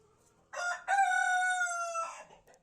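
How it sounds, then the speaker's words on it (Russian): A rooster crows once, loud and close, a long drawn-out call with a brief break near the start, then quiet. "Вы слышите, как поет этот петух?"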